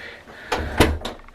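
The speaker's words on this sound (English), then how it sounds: "Open the door. Close the door." A bathroom door is opened and then closed, with several sharp, close knocks and clacks in quick succession and no voices.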